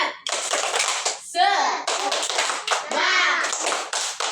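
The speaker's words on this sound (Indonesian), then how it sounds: "coba kita tepuk semangat dulu" A class of children performs rhythmic 'tepuk semangat' spirit clapping, sharp patterned hand claps in quick bursts, interleaved with loud group chanting and shouting from young voices.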